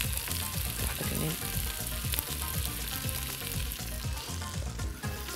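Broth poured into a hot pan for a spinach and beetroot gratin hisses into a dense, continuous sizzle up close, over a low rhythmic thumping background, with no voices.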